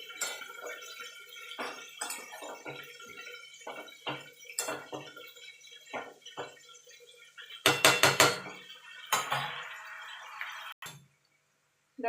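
Turmeric and chilli powder being stirred into eggplant and spring-onion-stalk vegetables in a pan for a mourala fish chachchari: intermittent scraping and clinking of a metal spatula, close and quiet, with a louder rattling flurry midway before falling silent.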